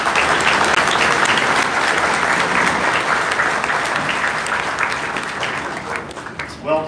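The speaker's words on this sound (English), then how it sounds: "So maybe a round of applause." Audience applause at the Airventure aviation show, a loud, dense burst of clapping that starts strong and slowly thins and fades over about seven seconds.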